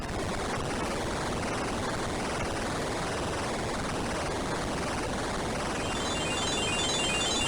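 Tails' plane in the Sonic Advance video game, heard as a steady, loud, broadband engine and propeller drone that holds unbroken throughout.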